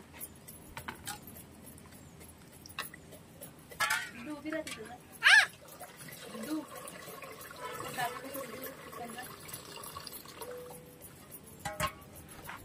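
Water sloshes and splashes in a bowl while chicken is rubbed and rinsed, with clinks of a vessel and background voices.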